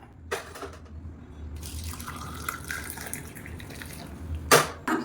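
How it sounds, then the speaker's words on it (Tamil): Betel leaf kashayam, a herbal decoction, is strained: liquid pours and splashes steadily into a vessel, with a few sharper drips and clinks near the end and no talk. "இப்போ நல்லா ஒரு பத்து நிமிஷம் அப்படியே விட்டாச்சு வடிச்சிக்கலாம்"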